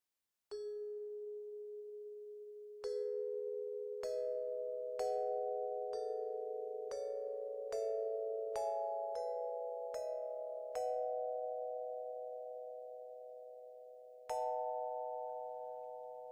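Ball hit sound effects from Wwise triggered in a Unity game, a series of bright chime-like tones with sharp attacks and short decays at irregular intervals, faint and isolated.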